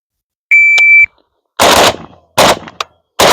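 PSA AK-47 GF5 rifle firing rounds: a steady electronic beep first, then three loud, sharp shots at irregular intervals, each with a short ringing tail.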